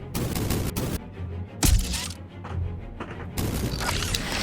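Rockets fire in rapid bursts in a Roblox video game, loud crackling blasts and booms repeating close by with short pauses between volleys.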